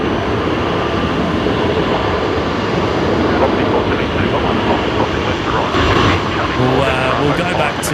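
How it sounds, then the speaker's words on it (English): A Virgin Australia Boeing 737 MAX 8 jet at Brisbane Airport gives a steady, broad engine roar that holds at an even level throughout, with people talking over it. "Just following the 737 MAX 8 at the moment,"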